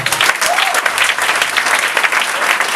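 A church congregation bursts into loud, sustained applause during a sermon, a dense wash of clapping hands that fills the room for the whole stretch.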